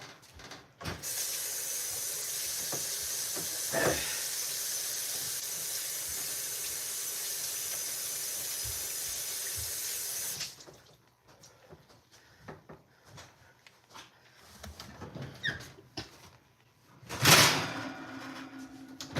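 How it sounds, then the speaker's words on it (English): A kitchen tap runs in a steady loud hiss for about ten seconds while hands are washed, then cuts off, leaving quiet clatter and a short splash. "let me wash my hands"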